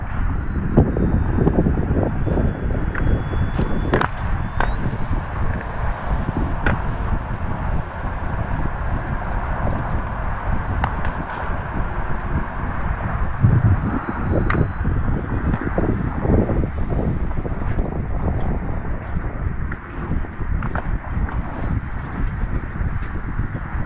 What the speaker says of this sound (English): This is the first time I've flown a plane this light.